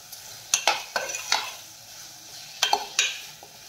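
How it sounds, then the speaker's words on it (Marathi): Tomato and a potato stirred in a hot pan for masala khichdi, close and clear, with bursts of spoon scraping over a soft sizzle and no talk. "यामध्ये लगेच टाकून घेऊयात आपण 1 आलू। हे छान आपल्याला परतून घ्यायचं आहे।"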